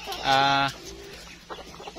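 Kabir free-range chickens: one loud, drawn-out hen call close by, followed by softer scattered clucks and rustling around the coop.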